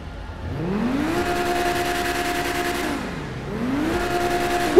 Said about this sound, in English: let's rev this engine.